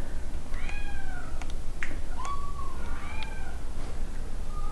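A pretty, affectionate young cat meows several times, with short, rising-and-falling calls spaced through a few seconds over steady low background noise, with no talking.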